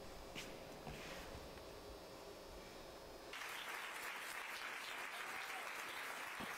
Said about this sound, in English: Clapping erupted in the courtroom after the sentencing of USA Gymnastics ex-sports doctor Larry Nas